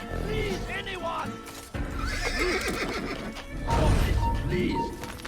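A horse in the Assassin's Creed video game neighs and whinnies loudly several times, with clip-clopping hooves, a crash and shouted game dialogue mixed in around it.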